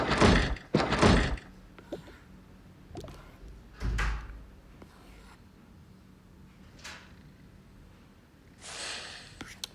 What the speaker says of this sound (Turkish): Kapat kız kapıyı.